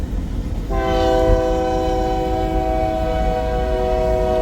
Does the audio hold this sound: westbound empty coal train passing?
yes